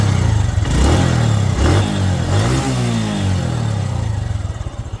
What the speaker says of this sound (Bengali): বাইকটা। তো যদি স্টার্ট দেই